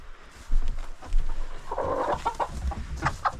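Chickens in a backyard coop and run cluck and murmur softly in short, scattered calls, fairly close but quiet, with no one talking over them.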